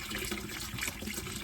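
RV antifreeze poured from a bottle into the bathroom sink of a Dynamax Isata 5 36DS motorhome, a steady close gushing and splashing of liquid with no talking.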